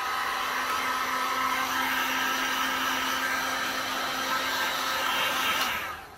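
A heat gun blows steadily on a resin coaster mold, a loud continuous whooshing whir with a low hum that runs unbroken for several seconds before cutting off at the end.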